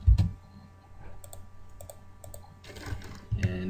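A command is typed on a computer keyboard in a few light, close key clicks, followed by a louder rustle and a couple of firmer thumps toward the end.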